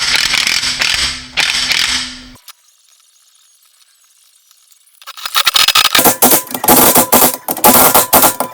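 Sharp metallic clicking from a ratchet wrench tightening fasteners, loud and close, in two bursts separated by a few seconds of near silence.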